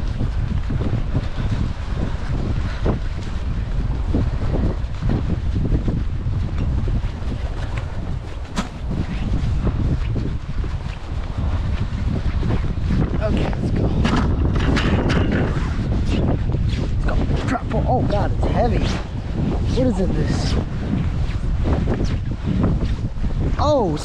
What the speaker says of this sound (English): Oh, very windy, sorry. Sorry if it's very windy.